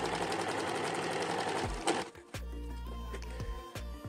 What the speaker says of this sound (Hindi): तो चलिए अब हम इसकी सिलाई कर लेते हैं।